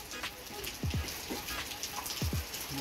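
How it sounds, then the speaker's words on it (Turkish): Rain falls steadily in a zombie village video game, a soft continuous patter with a few sharp drop-like sounds scattered through it, quiet and unbroken by talk. "Yağmur da çok güzel yağıyor."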